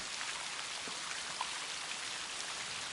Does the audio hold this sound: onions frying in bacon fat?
no